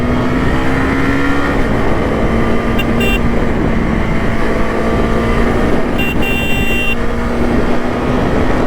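A KTM Duke 250 motorcycle engine holds a steady, high-revving drone throughout, close and loud, with two brief sharper tonal bursts cutting in partway through.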